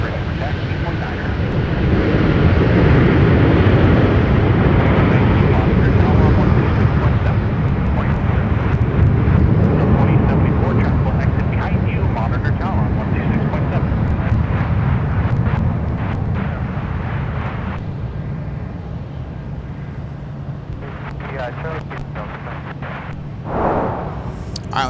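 An airliner arriving from Sacramento lands at MSP airport with a broad, heavy roar that swells early, then slowly fades and thins as the jet rolls out, with talk heard faintly over it.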